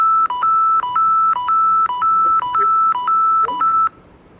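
An Arduino-driven buzzer loops a short electronic tone pattern, seven or so evenly spaced bright beeps with quick pitch dips between them, loud and close, ending abruptly.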